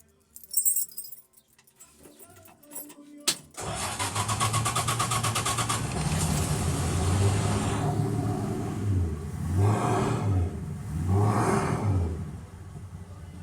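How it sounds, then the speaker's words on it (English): A 1963 Plymouth Savoy in Mexican spec, with keys jangling first, cranks and fires up, then settles into a loud rough idle and is revved twice in swelling bursts. Background music sits faintly underneath. "let us see if the car will start and run"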